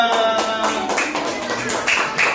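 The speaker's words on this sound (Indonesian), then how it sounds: "Tepuk tangan buat kelompok 2." Applause in a classroom for a student group after their presentation, with dense, scattered hand claps running steadily through the whole stretch at moderate loudness, some claps sounding close and sharp.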